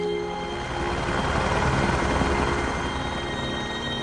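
A helicopter flying over tropical forest while dropping seed canisters from a hanging bucket, a steady, loud, close rotor and engine drone that holds constant throughout with no talk.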